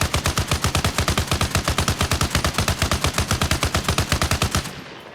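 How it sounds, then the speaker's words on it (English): A mounted .50 cal machine gun in Arma Reforger fires a long, loud, evenly paced burst of heavy thumping rounds, about ten shots per second, then stops abruptly near the end. "Mount the 50 cal on the next lane over."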